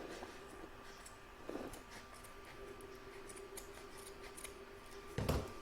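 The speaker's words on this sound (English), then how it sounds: "I'm just going to trim this a little bit closer." Scissors trim appliqué fabric in a few short, close snips spaced apart, each a crisp cutting burst over a faint steady hum from the room.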